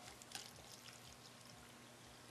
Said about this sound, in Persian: آب شهری می‌ریزم در این لیوان.